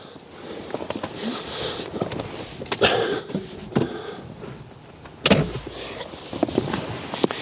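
An electric seat motor in an Opel Astra electric car whirs in short bursts as the seat moves forward, interrupted by clicks and thumps of movement nearby.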